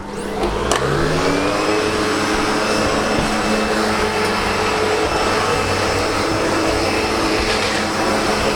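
A SEBO Automatic X7 Boost ePower upright vacuum cleaner runs loud and close, a steady, high whining roar that swells up to full speed at the start and then holds constant.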